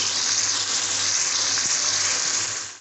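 Chicken pieces being bhuna-fried in a pan for a chicken curry (salan) give off a loud, close, continuous sizzle that fades away at the end.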